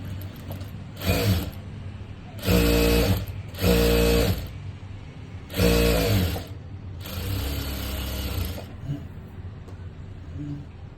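A sewing machine stitches a blouse sleeve in five short, loud, whirring runs separated by pauses, heard close up.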